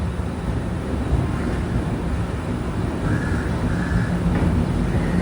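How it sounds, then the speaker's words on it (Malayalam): The Konark Express, a monsoon train running from Mumbai CSMT toward Pune, makes a steady, loud rumble of wheels and carriage noise with wind buffeting throughout, and no voices. "കറക്റ്റ് 2 മണിക്ക് തന്നെ Konark express Mumbai CSMT railway സ്റ്റേഷനിൽ നിന്ന് എടുത്തിരിക്കുകയാണ്"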